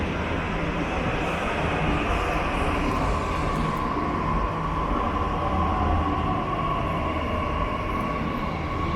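A Delhi metro train rumbles at Udyog Bhawan station, a continuous loud roar with a sustained hum and rattle, steady and close for the full length with no talking.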